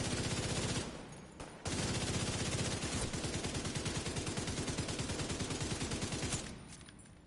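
An assault rifle fires in The Division 2, long loud bursts of rapid automatic gunfire with a brief pause early on, then a sustained stream of shots.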